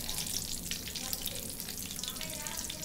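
Mirchi bajji chili fritters deep frying in hot oil, a steady loud crackling sizzle that fills the whole stretch with no pauses.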